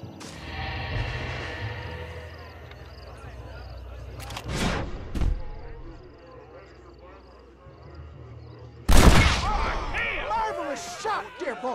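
Gunfire in the Red Dead Redemption video game: a few sharp shots crack out midway, then one loud, close blast near the end, over a background of voices and ambient game sound.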